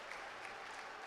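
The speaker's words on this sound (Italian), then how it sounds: "Applaude tutto il palazzetto." A packed indoor sports hall claps during a women's volleyball game between Roma and Okasa Falconara, with continuous, even applause spread across the crowd and nobody speaking.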